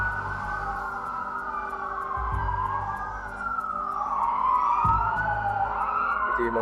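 Several police car sirens wail and overlap outdoors near an abandoned resort in Taiwan, rising and falling tones weaving together continuously, fairly loud, with engine rumble beneath and no talking.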